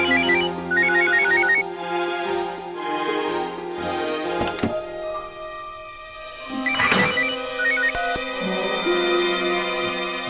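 A telephone ringtone plays in a television drama scene, a bright electronic melody of repeated chiming notes sounding loudly and alone, interrupted by a couple of sharp clicks before it resumes.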